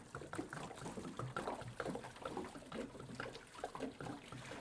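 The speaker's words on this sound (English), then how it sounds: "So the first thing is it's time to dump some water in here." Water dumped from a container into a juvenile Mississippi map turtle's bioactive aquatic tank, an irregular sloshing and gurgling pour that runs the whole stretch at moderate volume, with no talk.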